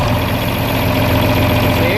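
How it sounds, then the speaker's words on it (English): A John Deere 4010 tractor engine runs at a steady, loud idle close by, a continuous low rumble with slight vibration through the whole stretch and no break in its rhythm. "we're going to start the tractor. I'm going to throttle her back."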